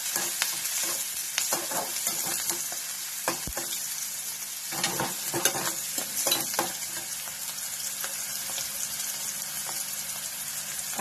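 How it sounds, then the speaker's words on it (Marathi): Chopped onion and cumin seeds frying in oil in a pan, with a steady bright sizzle and occasional stirring scrapes throughout, close and moderately loud, no talking. "कांदा चांगला भाजायचा जास्त पण लागतं नाही करायचा अशा पद्धतीने कांदा भाजायचा"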